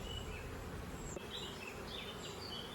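Honeybees buzzing around an apiary hive during colony work, a faint continuous drone with a few individual bees whining past near the ear, quiet throughout.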